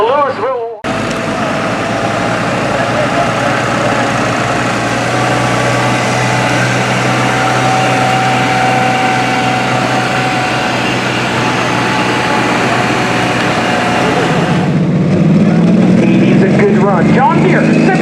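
A John Deere 7520 pro stock pulling tractor drones loudly and steadily at a tractor pull in Ohio, a constant engine roar that rises near the end as the pull intensifies.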